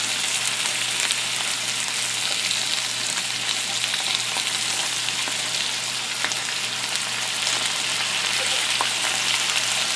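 Lean beef burger patty frying in a pan, a steady, close sizzle with fine crackling and popping that continues evenly throughout without any talking.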